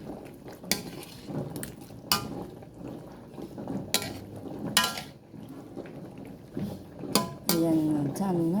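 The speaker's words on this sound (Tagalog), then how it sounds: "Halo natin yung okra, ayan. I-mix lang natin." Okra and bitter gourd stirred into pakbet in a cooking pot, repeated clinks and scrapes of a utensil against the pot with soft sizzling underneath, irregular and close, with someone speaking at times.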